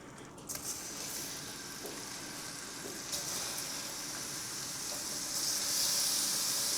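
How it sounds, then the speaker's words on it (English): Shrimp sizzle steadily in a hot buttered pan, a dense, continuous frying hiss that swells slightly louder toward the end, with faint clinks of stirring and no talking. "my pan is nice and hot, so I'm gonna go ahead and start adding my shrimp"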